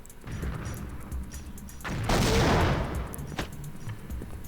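Hand cannon gunfire and grenade explosions from a Berserk video game come in dense bursts of shots, followed by a louder explosive blast that swells and fades back into the continuing fire.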